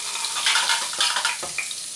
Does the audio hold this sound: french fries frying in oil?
yes